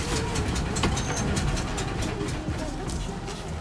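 A 1988 Cadillac Fleetwood Brougham with a fuel delivery issue runs with a steady, broadband engine rumble throughout, close by, and people talk over it.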